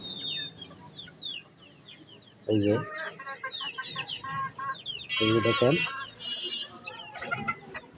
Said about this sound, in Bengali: দেখেন মুরগি পালাই হলে একটা শখ।